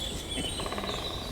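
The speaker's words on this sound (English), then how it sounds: "Woodpecker drumming again." A woodpecker drums in a quick, rattling burst on wood in a stand of trees at dawn, heard at a distance while birds sing faintly in the background.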